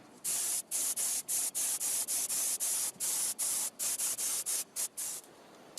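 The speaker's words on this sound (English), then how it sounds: "now I'm going to lay down 2 coats of catalysed primer to improve the surface. To the spray booth." Catalysed primer is spray painted in a spray booth onto a scratch-built RC Spitfire model, hissing in a series of short, even bursts, about a dozen quick sprays separated by brief pauses, close and fairly quiet.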